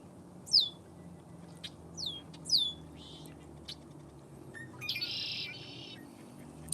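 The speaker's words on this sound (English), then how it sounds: "Listen to those birds." Birds singing outdoors, with several sharp descending chirps in quick succession followed by a longer buzzy trill, heard clearly over a faint low background hum.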